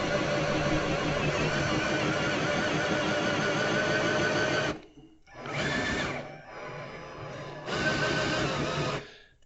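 A cordless drill, its battery low, drives an iit hole saw through material in a long steady whirring cut, stops, then restarts in two shorter bursts with brief pauses between, close and fairly loud.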